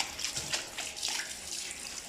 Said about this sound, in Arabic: همسك السلم من فوق لتحت، يعني مش هسيب اي حاجه لغايه البوابه هغسلها بالميه